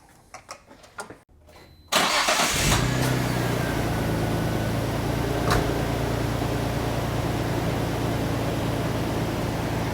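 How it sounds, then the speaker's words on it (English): A Nissan Stagea Autech 260RS with an RB26DETT engine and HKS front pipe cranks briefly after some quiet handling noises, then fires and settles into a loud, steady idle that carries through to the end. "So all we gotta do now is start it up and see if we fixed our leak."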